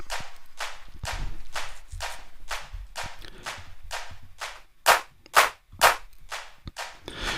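Clap samples in a music mix, sharp bright hits repeating in a steady rhythmic pattern about twice per second, with a few louder accented claps toward the end over a faint low beat.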